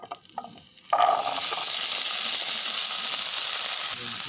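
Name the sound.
potatoes frying in oil in a pan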